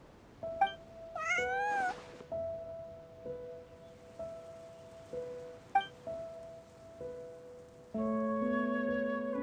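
Cat meows from a character in the video game Genshin Impact, a few short rising calls near the start set over soft in-game ambience and steady musical tones.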